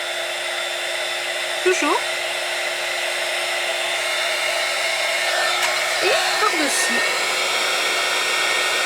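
An embossing heat tool blows hot air with a steady, loud whooshing hum throughout, while a person speaks briefly and quietly in French underneath.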